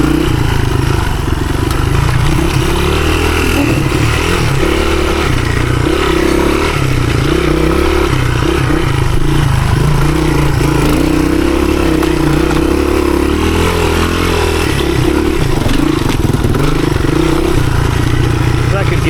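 A 1983 Honda XR200R 15hp dirt bike ridden through the woods, its engine droning loud and steady with rhythmic revs and clattering over rough ground, a voice talking over it now and then.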